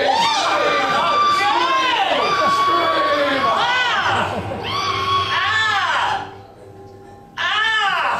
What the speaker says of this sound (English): On the count of three, a big blood curdling scream.